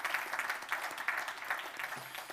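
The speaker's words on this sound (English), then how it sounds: "give a big round of applause to our panelists" An audience at a business forum claps together, a steady wash of applause from a moderately sized crowd, even in rhythm and fairly close.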